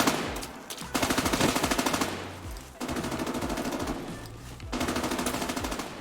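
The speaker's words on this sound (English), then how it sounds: "the next area is live fire. I say again, it's real bullets going over your real melon." Live automatic gunfire on a firing range in America's Army: Proving Grounds comes in several loud, rapid bursts with brief gaps and heavy low rumble.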